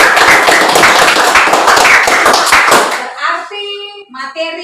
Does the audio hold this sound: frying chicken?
no